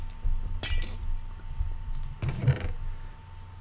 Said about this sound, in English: Oh, I can break glass.